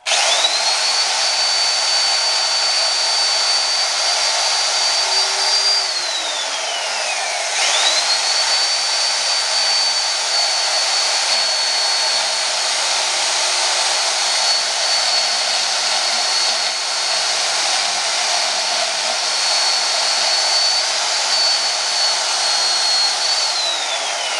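A saw blade rated for both wood and metal rough-cuts a wooden block for a full tang knife's handle scales, giving a steady, loud motor whine that dips once briefly and carries on unbroken with no talk.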